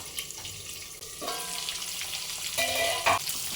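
Stuffed ridge gourd fries in hot oil and is stirred in a pan, giving a constant crackling sizzle broken by a few scraping strokes and clinks of the spoon, close and continuous.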